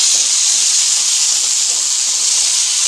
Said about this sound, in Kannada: ಒಂದು ಇಂಚಷ್ಟು ಹಸಿ ಶುಂಠಿ ಹಾಗೆ ಒಂದು ಗೆಡ್ಡೆಯಷ್ಟು ಬೆಳ್ಳುಳ್ಳಿ ಇದೆಲ್ಲವನ್ನು ಚೆನ್ನಾಗಿ ಫ್ರೈ ಮಾಡ್ಕೋಬೇಕು